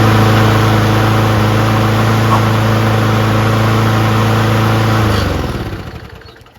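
A small power washer engine fitted onto a push lawn mower runs loud and steady close up, then winds down and fades out as it shuts off near the end.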